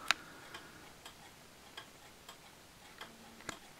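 A jack striking wall clock ticks steadily and softly, about two ticks per second, with one slightly sharper tick near the start and a faint low tone late in the clip, heard alone.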